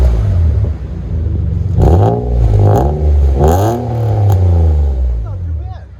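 A 1995 Nissan Cedric with a 3.0-litre VQ30 V6 and DTM exhaust revs up in several rising and falling bursts, loud and close, over a steady idle rumble.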